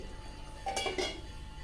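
A metal lid set onto a cooking pot of simmering Sri Lankan-style sothi, two quick clinks close by over a quiet kitchen background.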